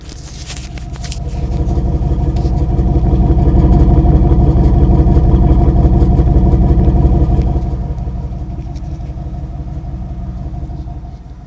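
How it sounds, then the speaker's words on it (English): The single exhaust of a 1991 Cadillac Allante's 4.5 liter V8 idling nearby, a deep steady rumble that swells gently in the middle and then settles back down. "we'll go back to the single exhaust on the Allante,"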